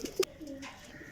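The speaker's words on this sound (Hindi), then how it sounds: "लो जी सर कबूतर है माशाल्लाह, देसी टाइप कबूतर है, बहुत कीमती।" Desi-type flying pigeons give a brief, soft coo up close, lasting about a second.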